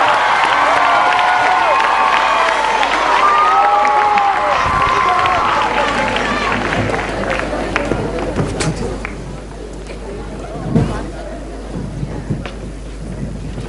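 A debate final audience cheers and applauds loudly in a dense crowd roar that fades to scattered claps and wind-buffeted noise, with someone speaking through it.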